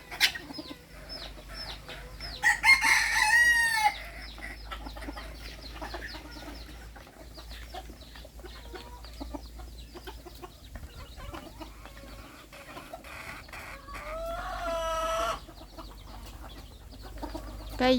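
Bantam chickens cluck and squawk repeatedly on a chicken farm in Chanthaburi, Thailand, at evening feeding time, with a couple of louder crowing bursts from a rooster standing out over a busy farmyard background.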